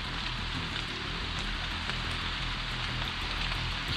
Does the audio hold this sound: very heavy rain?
yes